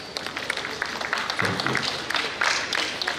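An audience at a builders conference in Lagos claps in a scattered, moderate round of applause that rises and falls over a few seconds, with a brief spoken word from the stage.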